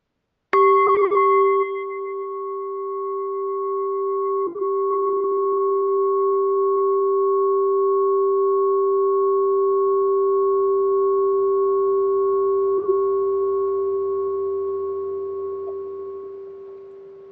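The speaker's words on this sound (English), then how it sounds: "So I'm going to ring the bell" A single bell strike rings out clearly, then its pure, steady tone sustains and slowly fades over a long stretch, with no voices.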